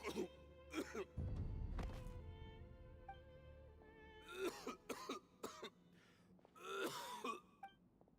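Several harsh coughs and throat clearings come in short bursts, separated by pauses, with a low thud early on; no speech. A character coughing in a video game.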